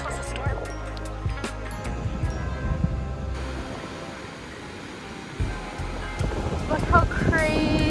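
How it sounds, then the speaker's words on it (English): Strong wind on a beach blusters against the microphone in a loud, continuous rumble, with surf washing underneath and brief voices in the background. "It's very windy today."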